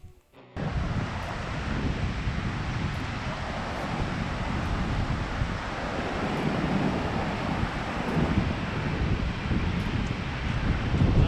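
Low Force, a 5.5-metre waterfall on the River Tees, roars as a steady, dense rush of falling water, loud and close throughout with wind buffeting the microphone and no talking.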